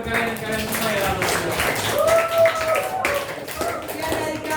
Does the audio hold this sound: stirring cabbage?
no